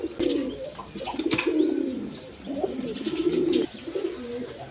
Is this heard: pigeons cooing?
yes